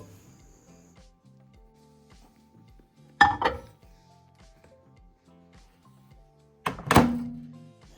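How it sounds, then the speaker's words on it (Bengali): A bowl of oil mixed with black cumin and green chillies is set into a microwave oven, giving two distinct, fairly close clunks a few seconds apart against a quiet background. "বাটিটিকে আমি আরেকবার মাইক্রোওয়েভ করে নেব"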